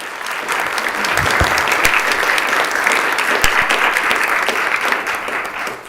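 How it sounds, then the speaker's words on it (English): A legislative assembly floor gives sustained applause, with dense, even clapping from a crowded chamber that swells quickly and carries on steadily for several seconds before tapering. "Please honor her with a round of applause."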